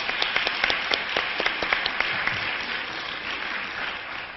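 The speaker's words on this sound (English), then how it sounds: "And if we could give a round of applause" A campus audience applauding a standing steering committee, with crisp individual claps standing out early before the clapping blends into a softer, steady patter.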